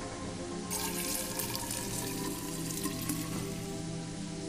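Water poured into a cauldron in the Fran Bow video game, a steady splashing stream that rushes on continuously at close range with no voices.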